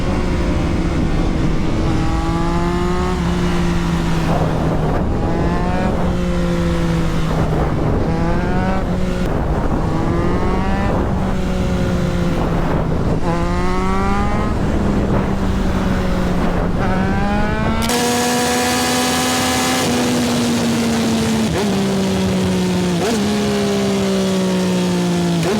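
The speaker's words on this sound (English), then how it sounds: "The exhaust that I got on here is the AT2 Yoshi full system exhaust." Yamaha R9 motorcycle fitted with a Yoshimura AT2 full exhaust system, revving loudly and close up in a series of rising and falling blips, the engine note climbing and dropping repeatedly with no talking.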